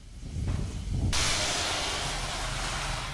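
Soo Line 2719, a 4-6-2 Pacific steam locomotive, lets off steam in a rail yard, a loud, steady roaring hiss that bursts in suddenly and holds, with low rumbling underneath.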